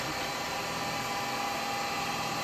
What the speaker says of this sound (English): And I'm going to drill a little hole down that.